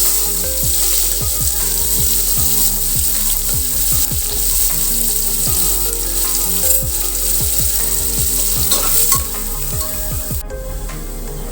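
Onion fries loudly in a pan for pav bhaji, a close, steady sizzle broken by repeated thumping spatula strokes, with no talking over it.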